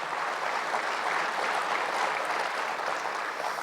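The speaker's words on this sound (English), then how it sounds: "Give yourselves a round of applause." Sustained applause from an audience at a faith and family political event in Des Moines, Iowa, a dense steady clatter of many hands clapping for the whole stretch, moderately distant with no voice over it.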